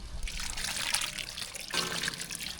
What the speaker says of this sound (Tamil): சாம்பாருக்கு கடைசியாக புளி தண்ணி சேர்த்துக்கலாம்